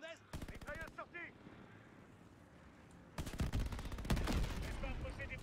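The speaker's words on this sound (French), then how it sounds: "Mitrailleuse sortie!" Gunfire from a machine gun in the Call of Duty Vanguard campaign, Midway mission: bursts of rapid, loud shots, a short volley early, then a sustained dense burst in the second half, with voices and battle noise around it.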